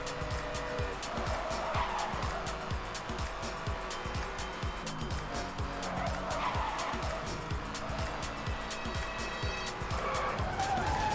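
A car drifts in the Need for Speed Hot Pursuit video game, its tires squealing continuously over a steady, loud engine drone, with repeated skid bursts throughout.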